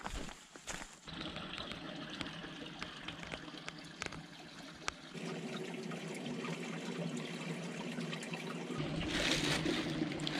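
Creek water trickles and babbles steadily in a canyon, a broad close wash of flowing sound that swells a little louder toward the end, with no talking.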